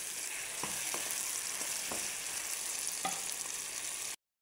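Fried chicken hitting a hot pan for adobo, with a steady loud sizzle and several sharp scraping stirs and clinks on top, no voices, ending abruptly.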